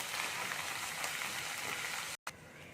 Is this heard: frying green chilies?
yes